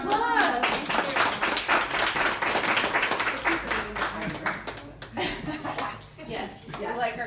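A small audience claps for a dental health guest, a brief spell of close, uneven hand claps mixed with chuckles and voices talking over it.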